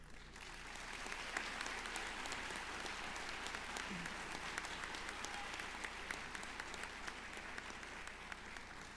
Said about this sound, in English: join me in thanking a very important group of people with a round of applause for our Board of Trustee members behind me